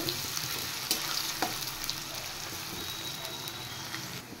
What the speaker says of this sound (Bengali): পেঁয়াজটা একটু ফ্রাই করে নেব।